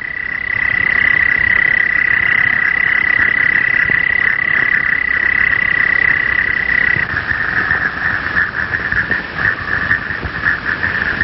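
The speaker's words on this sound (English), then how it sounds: "The call of a toad is a long trill." A Woodhouse's toad gives a long, continuous high-pitched trill, loud and close, holding steady for many seconds before turning slightly pulsing near the end.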